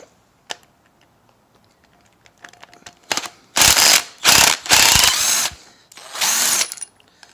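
A large impact wrench hammers at a bolt on an engine block in four loud, close bursts of rapid rattling impacts, preceded by quiet clinks and shuffling.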